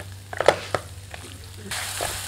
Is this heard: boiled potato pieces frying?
yes